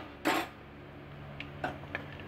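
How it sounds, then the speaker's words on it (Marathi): Whole spices stirred gently in hot oil for a masoor pulao, a few soft metallic clinks and scrapes of a spoon against the pan over a faint low background, with no talking. "आपण खडे मसाले थोडे तेलात व्यवस्थित स्टर करून घेणार आहे हलक्या हाताने"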